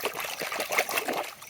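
Water trickles and splashes in short uneven bursts while a toy fighter jet plane is washed, close and fairly loud with no talking.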